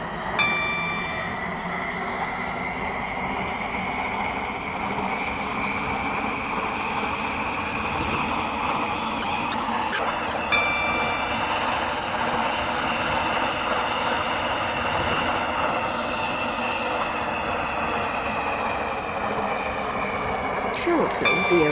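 Train running in the Roblox game Stepford County Railway on a Waterline service toward Greenslade, a steady droning rumble with a sustained tonal hum throughout, a faint click near the middle and a brief tone near the end.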